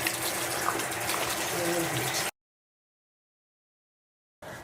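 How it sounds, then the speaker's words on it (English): Hands are washed with soap under warm running water: a steady close splash and gush for about two seconds, then sudden silence before the water noise returns. "So the first thing that we're just gonna do is we're gonna wash our hands."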